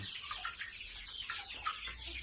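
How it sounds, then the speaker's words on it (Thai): Month-old domestic chicks cluck and peep in a quiet, busy chorus of short, overlapping calls, with no talking. "อันนี้คือไก่หนึ่งเดือนหกวันนะครับ"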